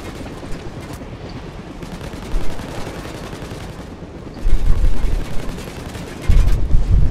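Rifle fire in the Payday 2 heist game as a steady, rapid stream of loud shots, with heavier thumping blasts surging in twice near the end.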